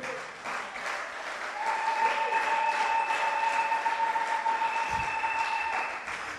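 A church congregation at a Christmas Eve service applauds in a loud, sustained burst of clapping with a sustained tonal hum running underneath, then the clapping fades out toward the end.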